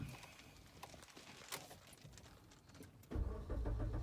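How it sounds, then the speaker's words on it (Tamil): A manual car's engine starts, a steady idle rumble swelling loudly near the end after a quieter stretch of low mechanical noise. "ஸ்டார்ட் பண்ணுங்க வண்டி."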